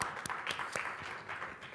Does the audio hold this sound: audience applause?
yes